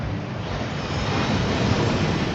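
A rushing waterfall inside the Gringotts vaults in the video game Hogwarts Legacy, a steady loud roar of pouring water that holds without a break.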